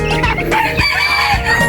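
Chickens crowing and clucking close by, overlapping calls filling the whole stretch with a loud, busy farmyard chorus.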